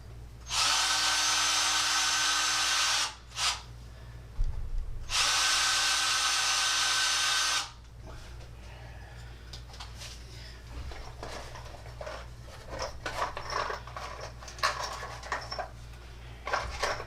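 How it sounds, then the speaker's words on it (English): A power drill whirs loudly in two long bursts with a short pause between, drilling two holes while expanding a layout, followed by quieter clattering and tapping of tools. "All right, we need to drill two holes in here, Millish."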